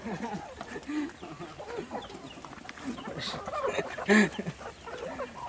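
Chickens cluck and murmur softly at close range while feeding on rice bran and broken rice, with a louder squawk partway through, amid faint rustling and background noise.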